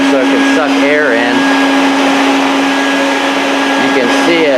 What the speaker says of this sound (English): if I cover up the vent on the back, you know, so it can suck air in